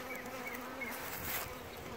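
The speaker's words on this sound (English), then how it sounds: "there's a lot of bees in here" Honeybees buzz in a dense, steady, close drone around an opened hive, with no voices.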